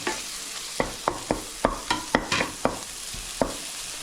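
Tomato and spices are sautéed in a pan for buffalo curry, a spatula scraping and tapping about ten times in a steady rhythm over a light sizzle.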